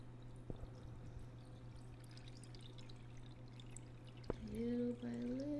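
Water is poured slowly into a nautical centerpiece container, a faint, quiet trickle with no talk, ending in a brief rising tonal sound.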